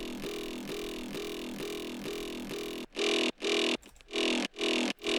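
A steady, continuous big room electronic kick pattern runs loud, then gives way to separate booming kick drum hits with gaps between them, no sidechain ducking.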